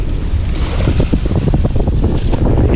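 A boat moving on open water in strong wind, giving a steady broadband roar and buffeting that runs without a break for the whole stretch, with no talking.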